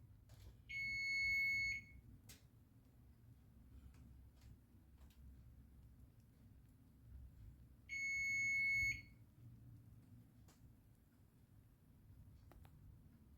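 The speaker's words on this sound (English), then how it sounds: "See, the timer is up." A kitchen timer beeps twice while a Mediterranean-style chicken empanada bakes, each round a rapid, steady beeping burst lasting about a second, separated by a long pause over a low room hum.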